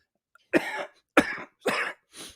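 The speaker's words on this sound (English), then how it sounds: "I'm coughing too much." A man coughs four times in quick succession, each a close, harsh burst, with the last one softer.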